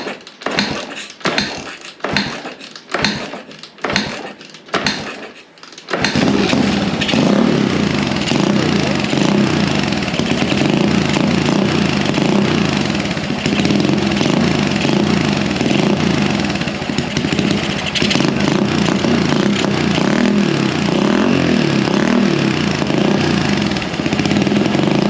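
A Honda XL175 dual-sport motorcycle gets several rhythmic kick-start strokes, then its single-cylinder engine catches and runs steadily at a loud, close idle with slight rises and falls.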